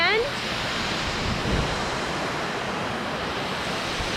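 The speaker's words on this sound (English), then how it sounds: "I don't know how well the audio is gonna come out with the waterfall sound" Continuous loud roar of rushing, falling water at Cherry Creek Falls, steady and broadband, filling the whole clip without pause.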